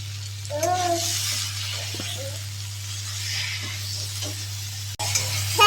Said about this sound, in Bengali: এবার ভেজে রাখা সবজিগুলো দিয়ে দিচ্ছি। একসাথে কষিয়ে নেব।